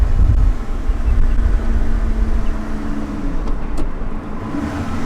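Lotus 3-Eleven 430 sports car driving, a brand-new open car out in hot Dubai weather; a steady engine drone with a low rumble and a sustained mid tone, and wind noise running throughout.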